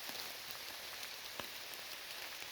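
Rain falls steadily in a forest, a faint, even wash of patter on leaves with occasional louder drops and no voices.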